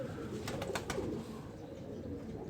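A broad-winged pigeon from a Sialkoti fancier's pair gives a low coo close by, framed by a few sharp clicks, with no talk.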